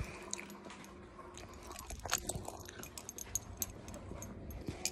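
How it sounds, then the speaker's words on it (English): A dog eats bacon and cheese ice cream close by, with quiet wet chewing and licking that builds into clearer crunching and smacking bites about halfway through. "And there's my dog also eating it."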